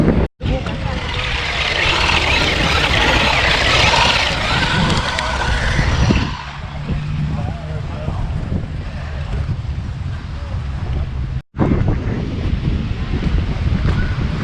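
Strong wind buffets the microphone at an outdoor car meet in loud, rough gusts, with a brief dropout midway and a rushing, surf-like background.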